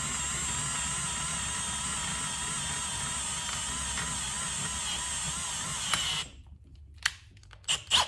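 A variable speed power drill whines steadily for about six seconds, then cuts off, leaving a few sharp clicks and handling noises close by, while installing car racing seats.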